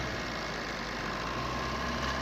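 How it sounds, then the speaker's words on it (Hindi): The engine of a used car for sale is held at high RPM, around 2000 to 3000. It gives a steady, dense, even roar with no breaks, close by and without talk. "मैं एक बार आपको इसका इंजन हाई आरपीएम पर भी चेक कर दिखा देता हूं"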